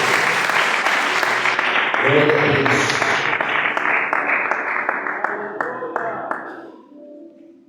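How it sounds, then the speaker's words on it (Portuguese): Church congregation clapping during a Friday night worship service, a broad burst of applause that slowly thins and fades toward the end, with a voice speaking over it near the middle. "Pode levar o Senhor com as palmas e coloque de pé para a gente."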